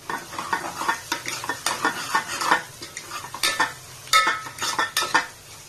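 A spoon stirs veg biryani masala in a pan, repeated scraping strokes and metal clinks in an irregular rhythm over a light sizzle, close and loud, with no talking.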